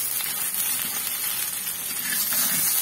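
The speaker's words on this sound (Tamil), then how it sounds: "இதுதான் மீன் வறுக்கணும்." Fish coated in masala fries in a pan, giving off a steady, close hiss and crackle of hot oil that holds for the whole stretch with no talking.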